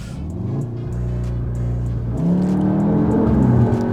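A 2022 Volkswagen Tiguan R engine revving and accelerating hard, its low drone climbing in pitch as it shifts up, loud and close with no talking.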